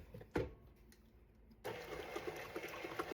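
An electric mixer on low speed blends milk and yeast with a faint, steady motor whir. The whir grows fuller and noisier partway through, and no one speaks.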